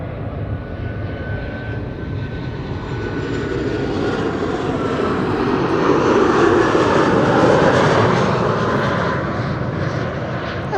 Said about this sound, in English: a KLM A330-200 arriving from Toronto